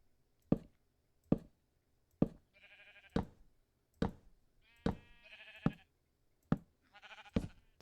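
Sheep bleat repeatedly in a video game, wavering cries interleaved with sharp regular block-placing knocks, clear and close with no talk.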